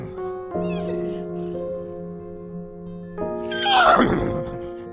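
A horse neighs near the end, a loud shrill whinny that rises over an ongoing music backing track.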